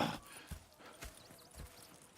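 Horse hooves clip-clopping at a steady walking pace in the Red Dead Redemption 2 video game, about four soft, evenly spaced thuds at moderate distance with no speech over them.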